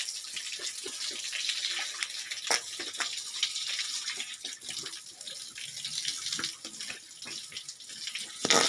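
Water pours and splashes steadily while pigs are bathed on a pig farm, a continuous running-tap rush with scattered splashes and knocks throughout, no talking.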